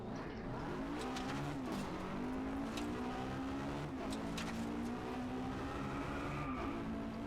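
Car engine in the racing game Driveclub VR, a steady, continuous drone with rising and falling revs through gear changes, with a brief tire squeal mid-way and no talk.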